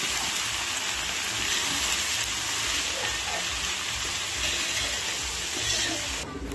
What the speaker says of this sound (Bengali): এবারে আমরা পেঁয়াজটা ভেজে নিয়েছি